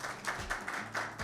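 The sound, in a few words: audience applause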